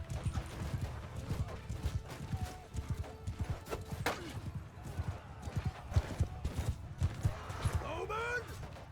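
Mounted archers' horses galloping in Mount & Blade II: Bannerlord, a dense rapid clatter of hooves with a horse whinnying near the end, under someone talking over the battle.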